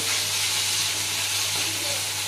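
Ginger and garlic sauté in a pan for a chicken gravy, giving a steady, close, even sizzle with a soft hiss that holds level throughout.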